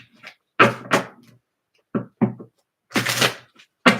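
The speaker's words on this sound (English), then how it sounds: "Let's get a few from the Zodiac fortune telling cards." Zodiac fortune telling cards are handled and shuffled in several short, crisp riffling bursts separated by pauses. The sound is close and clear, with no talking.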